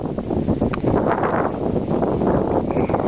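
Strong wind on a cloudy day roars steadily against the microphone, a loud rough rushing with gusty swells throughout, beside an off-grid wind turbine setup.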